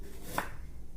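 A single crisp knife chop through fresh ginger on a cutting board, cutting it into thin slices for pork dumpling filling, close and brief in a quiet kitchen.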